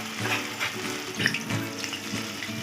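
Sweet pumpkin fritters fry in oil with a dense, steady sizzle and crackle, close and continuous, with faint clinks on top.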